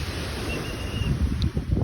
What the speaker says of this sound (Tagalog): gita na sang sound sang dagat